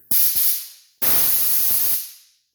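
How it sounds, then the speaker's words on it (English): An air compressor nozzle blows air through Flora Flex irrigation lines: two loud hissing bursts, a short double puff followed by a longer, steady blast of about a second that tapers off. "This is how I clean them out. I use a fucking air compressor and this fucker right here."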